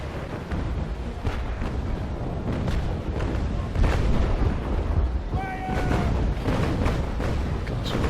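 Naval warships trade cannon fire in the video game Naval Action Legends, set in snow: repeated deep booms and blasts at irregular intervals over a constant rumbling din, with a brief whistling tone midway.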